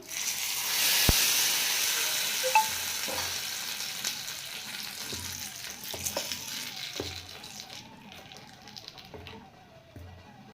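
Hot oil tempering of mustard seeds, cumin and curry leaves sizzles and crackles loudly as it is poured into chutney, a sharp burst settling into a steady hiss that slowly fades.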